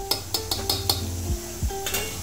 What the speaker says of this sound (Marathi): आणि आता याला प्रॉपर जे आहे फ्राय करतोय आम्ही